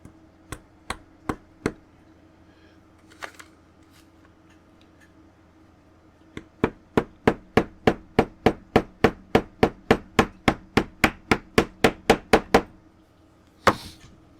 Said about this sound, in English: then you whop it with a hammer. I use my little ball peen.